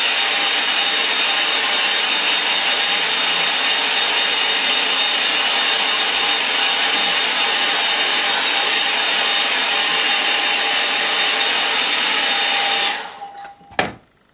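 A hair dryer blows loudly and steadily at close range, drying a watercolour painting of a poppy field, then cuts off near the end, followed by a short clunk.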